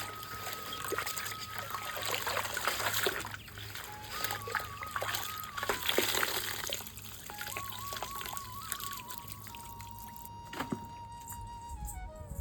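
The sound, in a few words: rinsing a vetiver garland in water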